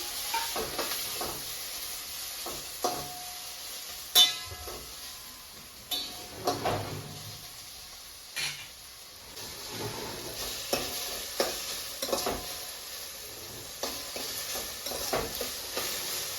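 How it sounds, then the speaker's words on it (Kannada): Onion and tomato fry in a pan for a mushroom gravy, giving a soft, steady sizzle with repeated stirring scrapes and a few sharper utensil knocks throughout, fairly quiet and with no talking. "ಇವಾಗ ನೀರುಳ್ಳಿನ ಹಾಕೊಂಡು ಸ್ವಲ್ಪ ಫ್ರೈ ಮಾಡ್ಕೊಳ್ತಾ ಇದ್ದೀನಿ"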